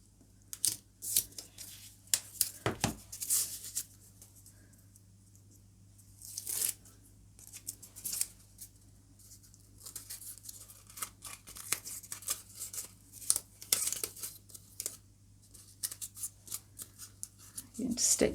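Scissors snipping off overlapping paper strips stuck around a toilet roll, crafting a patterned gel-printing roller; a scattered series of quick, crisp close-up cuts with paper rustling between them and quiet pauses.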